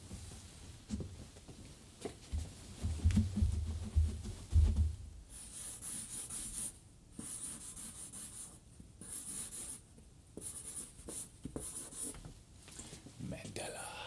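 A Sharpie marker writing a letter, squeaky rubbing strokes in short bursts, close, with low handling thumps early on and quiet voices nearby.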